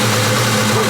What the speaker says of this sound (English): It's amazing it's idling that good without a mass airflow on it.